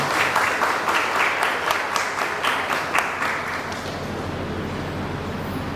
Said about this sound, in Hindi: हम लोग ताली बजा के उनका स्वागत करेंगे।